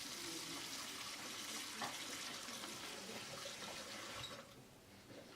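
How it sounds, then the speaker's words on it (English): Tap water runs steadily into a container at a sink, filling it with water for a film-processing stop bath; a continuous broadband splash that drops off near the end. "We fill it up with sink water for stop bath."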